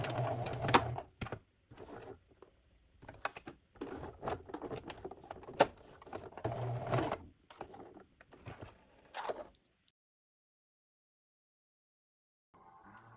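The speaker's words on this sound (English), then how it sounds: "I remove my pin and do a couple lines of zigzag stitches" A sewing machine runs zigzag stitches across joined elastic in several short, rapid bursts with brief pauses, then falls quiet near the end.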